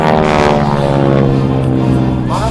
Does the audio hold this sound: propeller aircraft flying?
yes